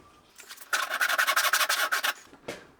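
A hand saw cuts a fret slot into a guitar fretboard in quick rhythmic strokes, about a dozen close rasping pulls in a burst, then a single short stroke after a pause.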